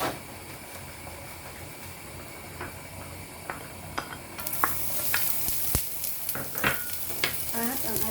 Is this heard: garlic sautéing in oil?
yes